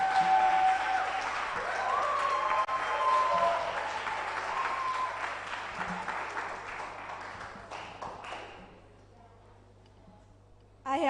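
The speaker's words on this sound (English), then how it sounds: "A round of applause for her" Audience applause at a university anniversary event, a dense clatter of clapping that runs steadily for about eight seconds before fading, with a voice speaking over it near the start.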